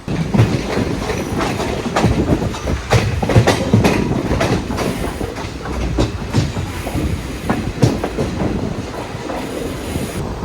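Rumbling train in motion after leaving Ottapalam, Kerala, in the monsoon, wheels clattering rhythmically over rail joints with occasional metallic squeals, loud and close throughout.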